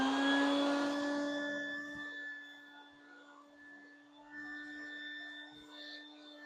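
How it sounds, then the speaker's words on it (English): A household vacuum cleaner runs with a steady high whine and strong tonal hum, close and moderately loud, settling slightly quieter after a couple of seconds, with faint handling sounds underneath. "I need to get my vacuum."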